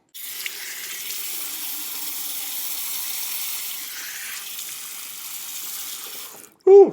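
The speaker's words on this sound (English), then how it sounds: "Nice cold water." Cold water runs steadily from a tap for rinsing during a straight razor shave, a continuous close hiss that stops abruptly near the end, followed by a brief loud clatter.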